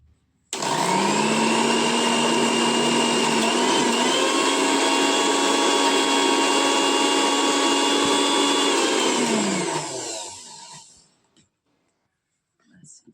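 A mixer grinder blending red masoor lentils with bondpadri greens and water: a loud, steady motor whine that holds for about ten seconds, then spins down to silence.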